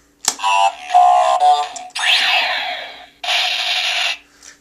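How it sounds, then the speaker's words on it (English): Astro Switch toy hammer module sound effect of a hammer slamming into the ground: a sharp electronic hit followed by bursts of loud synthetic, buzzy crashing and sweeping noise from a small speaker, alone. "that's the sound of a hammer slamming into the ground"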